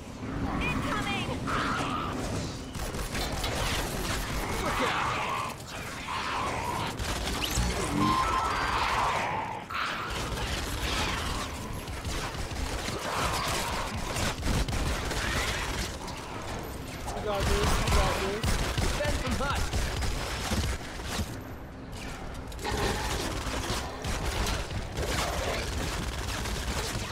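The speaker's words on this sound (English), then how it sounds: "Fuck you up with this little machine gun, bro." Rapid automatic gunfire from a little machine gun in Fortnite on Xbox One, loud bursts crackling over a dense game soundscape of impacts and mechanisms, with players talking over it throughout.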